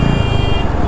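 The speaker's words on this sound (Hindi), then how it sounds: "पीछे देखो साले हॉर्न मारते रहते हैं" Vehicle horns honk amid dense Delhi road traffic, with steady horn tones over a loud, continuous engine rumble, heard close and brief.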